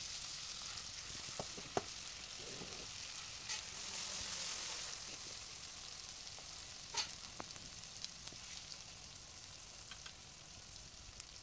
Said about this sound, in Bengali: দেখো মাছগুলো কিন্তু প্রায় কষানো হয়েই গেছে, উপরে আরও কিন্তু মেলা তেল উঠেছে।